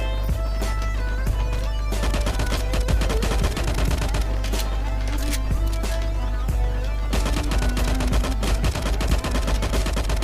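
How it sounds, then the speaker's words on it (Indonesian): Rapid bursts of rifle fire from another player in the LifeAfter shooter game crack out repeatedly over a steady musical and ambient game backdrop, loud and near, in dense volleys with short gaps. "Itu loh, ada yang nembakin lo di belakang loh."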